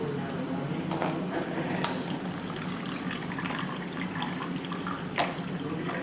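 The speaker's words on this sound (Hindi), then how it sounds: "तो अभी मैं इसमें पानी डालूँगी थोड़ा सा।" A little water poured into a container during a home magic trick, a soft steady trickle running close by throughout.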